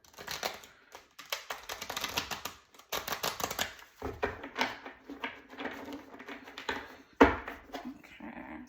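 A deck of tarot cards is shuffled in quick bursts of riffling, flicking and tapping, close and crisp, with short pauses between rounds and one sharp knock near the end.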